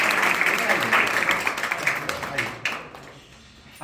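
Audience clapping at a school ceremony in India, a dense continuous patter of many hands mixed with voices that thins out toward the end.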